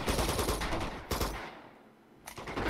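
Enemy gunfire in Uncharted 2, rapid automatic bursts at close range: a dense volley, a short lull, then another burst.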